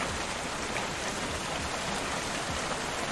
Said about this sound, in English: You can see the rain fall out there